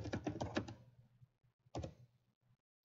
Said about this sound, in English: Then I'll just grab text and click and drag a box, and I can start typing in it.